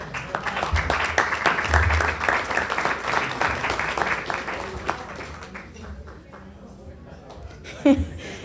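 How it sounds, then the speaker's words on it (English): An audience gives a round of applause at a legislative update luncheon, a dense burst of clapping that swells over the first few seconds then thins out, with a speaker's voice coming in as it fades. "Please stand up for a round of applause."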